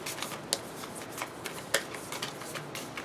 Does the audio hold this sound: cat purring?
no